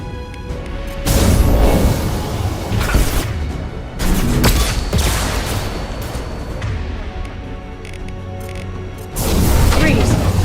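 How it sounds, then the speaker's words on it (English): Flashbang grenades go off in a Mass Effect 2 firefight, with loud broadband bursts near 1 s, 4 s and 9 s over sustained combat noise and voices. "Watch out, flashbangs!"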